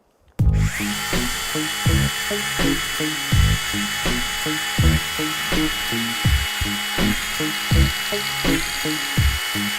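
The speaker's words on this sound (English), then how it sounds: "We've got a 1-inch Doug fir branch here, green." A nano blade power saw cuts through a green one-inch Douglas fir branch, a loud, close, whining buzz starting abruptly and running continuously with rhythmic pulsing bogging as the blade bites the wood.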